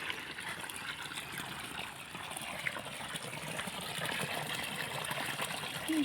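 Borewell water pours steadily out of a 2.5 inch delivery pipe outdoors, a continuous rushing, gushing flow at moderate level with no talking.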